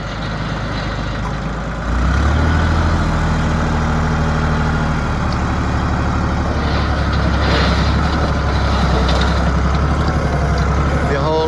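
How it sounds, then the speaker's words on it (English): A heavy four-wheel drive tractor with a front bucket starts up and settles into a loud, steady diesel rumble close by, with faint talking over it. "we're gonna see how good he is with this tractor"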